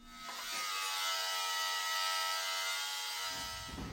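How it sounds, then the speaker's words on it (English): A Ryobi angle grinder cuts into a Honda CRX bumper, its high whining buzz rising quickly, holding steady and loud for about three seconds, then winding down at the end. "the Ryobi angle grinder does cut just fine"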